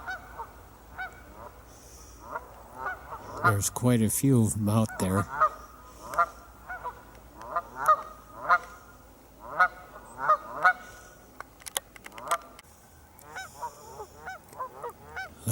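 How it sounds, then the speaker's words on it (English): Geese honk repeatedly from a flock in an outdoor setting, with a loud burst of overlapping calls early on and then steadier single honks. Someone talks over the birds briefly. "Lots of geese around."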